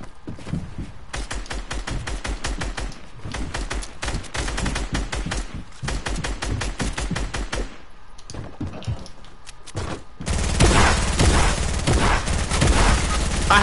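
Rapid SMG fire in a shooter video game, long sustained bursts of fast, evenly spaced shots at close range, with brief pauses between strings and a louder, denser stretch toward the end.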